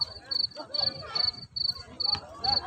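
Field crickets chirp in regular pulsing trills, about two per second, loud and close, with faint voices and background noise underneath, at the Al Khobar Corniche, Saudi Arabia.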